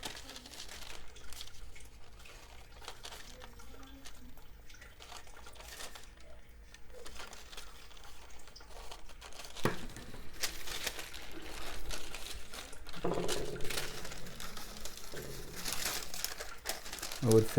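A lining for a cake pan for Jamaican fruit cake is cut into strips, giving ongoing crinkling, rustling and snipping up close, with a person talking over much of it.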